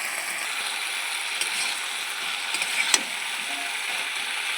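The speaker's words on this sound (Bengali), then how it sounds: "হলুদ দিয়েছি, ভালো করে কষাবো, ভালো করে কষিয়ে নিতে হবে" Turmeric and spices frying in oil with fish head for a pui shak ghonto, a steady broadband sizzle with a few faint scraping clicks of stirring, no talk.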